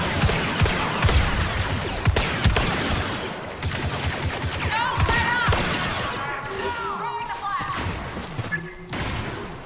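Blaster fire in Star Wars Battlefront II rattles in rapid bursts of sharp shots and thuds throughout a chaotic firefight, with chirpy electronic effects and voices talking over the action.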